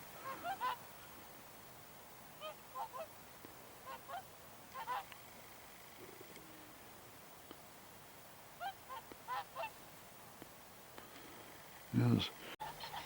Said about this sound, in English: that's the swans chatting away